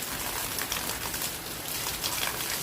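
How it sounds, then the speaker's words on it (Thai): Rain falls outdoors in a garden where parsley is being picked, a dense steady hiss of drops on surfaces with no break, moderately loud and alone. "ฝนตกเลยอ่ะ"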